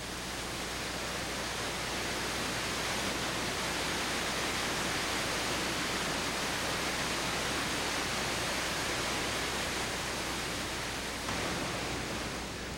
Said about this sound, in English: The beauty of water colliding with rocks can hardly be more impressive than at the 3 waterfalls in Havasu Creek.